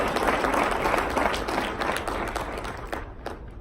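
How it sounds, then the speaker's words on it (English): Loud applause from an audience, dense clapping throughout that thins slightly toward the end. "Give yourselves a round of applause."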